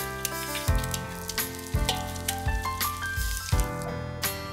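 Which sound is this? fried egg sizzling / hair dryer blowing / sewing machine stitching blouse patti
fried egg sizzling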